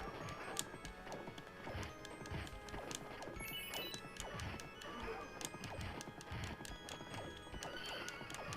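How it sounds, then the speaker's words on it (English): Horses gallop and whinny in the Knights of the Round arcade beat 'em up, with constant clip-clop hoofbeats, neighs and crashing hits over loud game music, no speech. "Hell yeah, horse."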